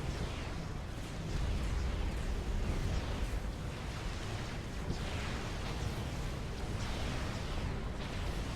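Units exploding in Supreme Commander: Forged Alliance during a 1v1 ladder match, a steady roar of overlapping blasts and crackling detonations that stays loud and dense throughout.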